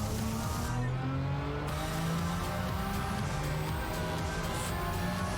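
A race car in Gran Turismo 7 holds a steady engine drone with rising and falling harmonic tones as it accelerates and shifts, loud and continuous throughout with no voices.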